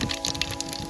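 Mustard seeds crackle and pop in hot oil for a Gujarati corn-cob gravy curry, giving quick, faint, scattered snaps over a low hum with no talking.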